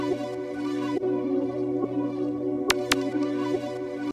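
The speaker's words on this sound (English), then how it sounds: "Some extra details like this laser effect." Two quick laser zaps, one closely after the other, cut through a looping hip-hop beat of sustained synths and steady percussion; short, bright and prominent, with no talk.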